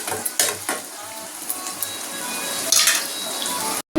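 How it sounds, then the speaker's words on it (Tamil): Onions sauté in a pan on a home stove with a steady, close sizzle, broken by occasional scrapes and clinks of stirring against the pan. "வெங்காயம் வதங்கிட்டு இருக்கு"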